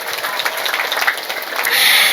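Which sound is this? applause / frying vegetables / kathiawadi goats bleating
applause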